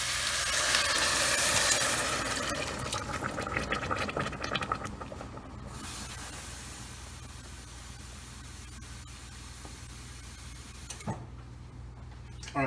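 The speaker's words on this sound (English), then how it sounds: "Then I'll start off with my broth or water on it." Broth or water pours into a cooking pot over frying chicken thighs, a loud rushing splash and hiss at first that fades into a softer steady bubbling, close with a brief clatter near the end.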